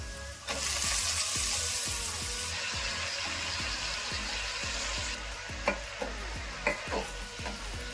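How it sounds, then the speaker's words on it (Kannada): Chopped leafy greens sizzle in hot tempering oil for sambar while a spatula scrapes and stirs the pan in repeated rhythmic strokes, with several sharper knocks near the end. "ಇವಾಗ ಸೊಪ್ಪು ಹಾಕೊಂಡು ಒಗ್ಗರಣೆಲೆ ಬಾಡಿಸ್ಕೊಂತಾ ಇದ್ದೀನಿ."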